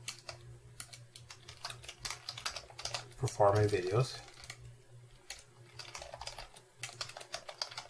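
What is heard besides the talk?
typing on a computer keyboard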